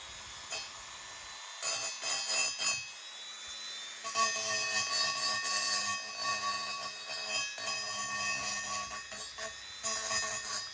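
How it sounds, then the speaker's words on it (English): A Dremel fitted with carbide burrs grinds down welds between the fins of Kawasaki Z1 Super Six motorcycle barrels, a high, steady whine with rough scraping bursts that vary in intensity, heard close up. "use my Dremel with carbide burrs to file down the"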